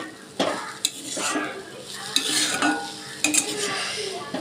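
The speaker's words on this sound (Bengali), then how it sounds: "আমার সর্ষের ফুল ভাজা হয়ে গেছে আমি মাঝখানে দুবার তুলে একটু নাড়াচাড়া করে দিয়েছি" Mustard flowers fry in a pan while being stirred, giving a soft sizzle broken by several sharp scrapes and clinks of a utensil against the pan.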